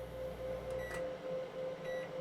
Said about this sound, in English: That was the microwave.